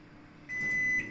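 A kitchen oven gives a single clear electronic beep when it finishes preheating before baking oat cookies, lasting about half a second over a faint room hum.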